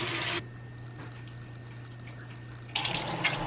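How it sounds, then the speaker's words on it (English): Tap water runs steadily at a sink during a morning face wash, a broad hiss that breaks off after the first half second and resumes near the end, quieter and more muffled in between. "Let's wash the face."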